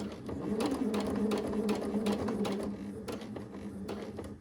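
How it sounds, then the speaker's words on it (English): A sewing machine stitches fabric close by with a fast, even mechanical whirr and rhythmic needle clatter that runs steadily and slows near the end. "Lower the foot and keep sewing."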